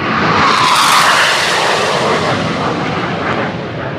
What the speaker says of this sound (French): C'est un avion de chasse, hein.